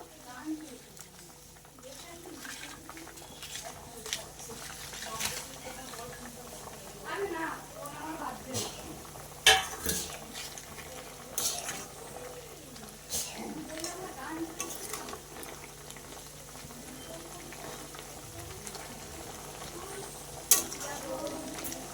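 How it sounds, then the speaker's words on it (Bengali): Fried papad is stirred into a curry in a pan with a spatula, giving faint repeated scrapes and light sizzling, and a voice talks over the cooking. "দেখো আমি ভালো করে মিশিয়ে নিচ্ছি"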